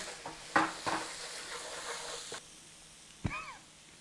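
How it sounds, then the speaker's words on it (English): Onion paste sizzles in a curry pan while a spoon stirs and scrapes, a few sharp clinks of metal over a steady low frying hiss, up close. "In with some onion paste. Give it a little working round in there."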